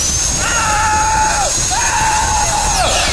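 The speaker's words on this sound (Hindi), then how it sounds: "ये अब तक की सबसे अजीब ड्रिल है जो मैंने देखी है" An odd pink drill with large green blades runs with a loud, high whine that rises, holds, dips and rises again over a constant rushing noise.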